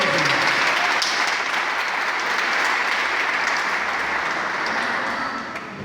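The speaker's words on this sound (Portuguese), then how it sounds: "Vamos dar uma salva de palmas para a palavra de Deus" A church congregation gives sustained applause during a service: thick, even clapping that fills the room and fades slightly at the close.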